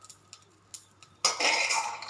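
Roasted green chillies, cooked on a low flame, are shifted into a bowl: a few light, sparse clinks, then a sudden close scraping clatter that carries on steadily.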